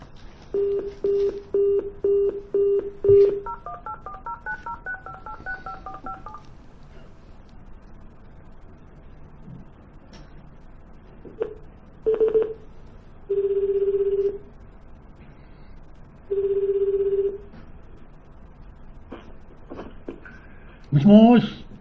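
Telephone call placed on a landline-style phone: a rapid series of dial tones, then a warbling electronic sequence, followed by several evenly spaced ringback tones with quiet gaps, and a voice answering at the end.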